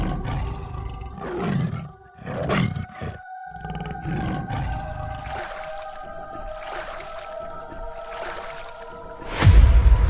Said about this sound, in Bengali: আশেপাশে বাঘ আছে, কাছাকাছি নৌকা দাঁড় করাস না